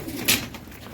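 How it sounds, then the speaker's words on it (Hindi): A pigeon gives a single short coo, close by, as a hand catches birds in a pigeon-keeping loft, with faint low background noise around it. "फिर दानिश कबूतर पकड़ा"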